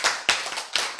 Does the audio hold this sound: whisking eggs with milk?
no